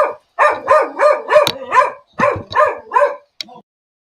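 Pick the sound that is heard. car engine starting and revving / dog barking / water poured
dog barking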